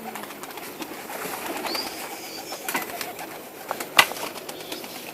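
Pigeons try to land outdoors, with scattered wing flaps and faint coos, soft rustles and a sharp flapping burst near the end, fairly close and with no voices.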